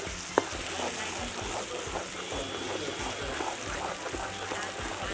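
Softshell turtle fries with holy basil as it is stirred in a pan, giving a close, steady sizzle with scraping stir strokes and one sharp clink near the start.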